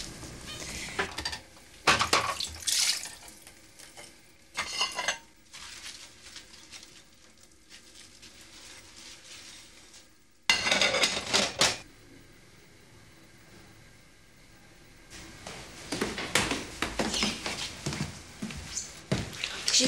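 Dishes, pots and cutlery being washed at a kitchen sink, with loud bursts of clattering and scraping separated by quieter stretches of running water and handling.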